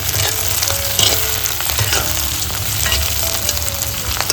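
Onion and tomato with curry leaves fry in a pan, a loud continuous sizzle with occasional scraping stirs of a spatula, close and unbroken throughout.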